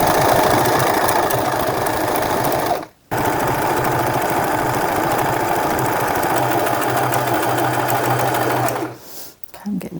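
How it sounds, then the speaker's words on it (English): A sewing machine stitches a bag strap in loud, steady rapid bursts, stopping briefly twice before the run ends, close up with speech tagged faintly beneath. "And now I'm going to sew all the way down on the other side."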